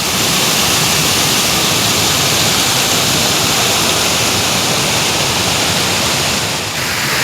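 A small mountain river in a Jammu and Kashmir village rushes beneath a footbridge beside a temple, giving a dense, steady roar of flowing water that stays loud and unbroken, with no voices.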